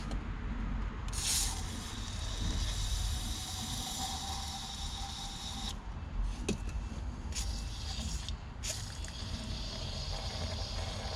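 Aerosol spray can hissing onto a flood-damaged 2008 Mercedes CLK350, several sustained bursts of broadband spray with short pauses between them, close up over a low background rumble.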